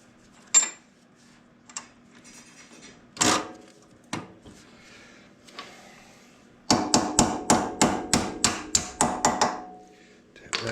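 A hammer taps a bolt through a vehicle's sway bar: a few scattered metallic strikes, then a quick, steady run of about ten loud, close, ringing blows.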